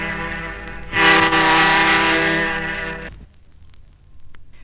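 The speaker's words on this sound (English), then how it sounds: "Here are the twin air whistles fitted to the cargo liner Lycaon." Twin air whistles aboard the Blue Funnel cargo liner Lycaon give one loud, rich chord of about two seconds, cutting off sharply into quiet harbour background.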